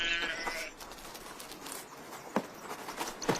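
Sheep grazing in open pasture among holm oaks give a few bleats at moderate distance, with rustling and faint outdoor ambience around them.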